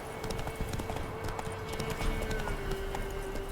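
Roach, the horse in The Witcher 3, galloping with quick, rhythmic hoof clip-clops at a steady pace, clear and fairly close over a constant background hum.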